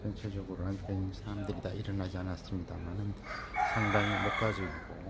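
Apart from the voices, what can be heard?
rooster crowing in the morning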